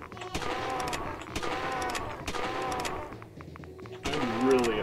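Video game gunfire in a desolate hospital level: repeated loud shots and bursts in clusters roughly every second, layered over a dense game soundtrack with tonal music and a rising tone near the end.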